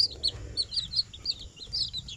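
Young chicks peeping in a chicken pen: bright, high, rapid cheeps repeating in quick bursts, fairly close, over low background rumble and no speech.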